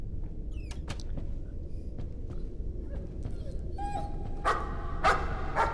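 A dog barks inside the horror video game Layers of Fear, giving a few sharp yips and barks over a steady low ambient rumble. The loudest bursts come near the end.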